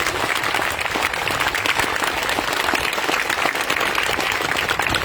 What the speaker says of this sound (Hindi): तो जितने जोर से आप ताली बजा सकते बजाइए